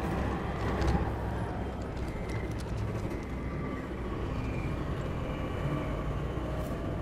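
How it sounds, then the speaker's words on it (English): A video game train slowing to a stop at a platform, a continuous rumbling rolling noise with a faint squeal, steady and moderately loud throughout. "Train already stopping, what the hell?"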